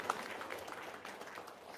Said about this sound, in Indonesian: Tepuk tangan dong untuk Satem.